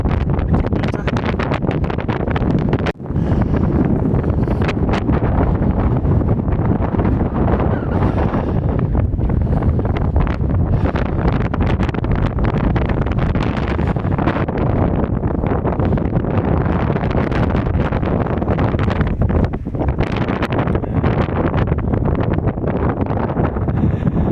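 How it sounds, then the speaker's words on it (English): Strong wind on an exposed rugged hill buffets the microphone in loud, continuous gusts and roaring rushes, with a brief drop near the start. "The wind's picking up."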